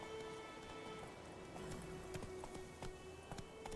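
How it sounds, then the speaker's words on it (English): A horse's hooves thud in a quick, even galloping rhythm in The Witcher 3: Wild Hunt, fairly faint against a soft outdoor game ambience. "Luckily, Geralt can always count on his horse Roach, as to help him on his travels."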